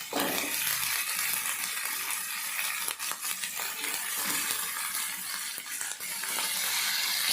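White brinjals going into a hot pan for a curry, a faint steady sizzle and frying hiss with small clinks and stirring scrapes throughout.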